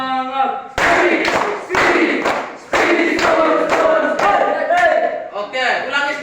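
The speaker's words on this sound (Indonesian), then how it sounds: "Satu kali tepuk semangat. Dua kali tepuk semangat." Group of participants at a school training session doing a rhythmic clap chant, loud sharp clap bursts in counted patterns alternating with shouted chanting voices, close and energetic.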